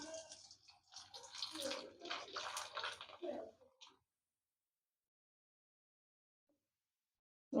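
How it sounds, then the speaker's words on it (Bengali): Flour papad dropped into hot oil bubbles and hisses vigorously, a rushing, close frying burst lasting a few seconds before dying away into silence. "এখন পাঁপড়টা ছেড়ে দিচ্ছি"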